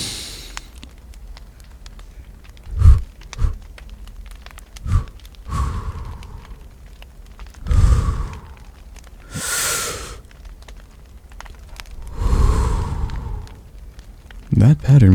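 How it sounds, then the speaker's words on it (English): A slow breathing exercise with deep breaths drawn in and let out in a steady pattern, close and soft, spaced by pauses, with a calm voice guiding between the breaths. "So we'll begin with a few breathing exercises."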